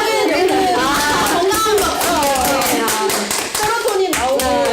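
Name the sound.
people clapping hands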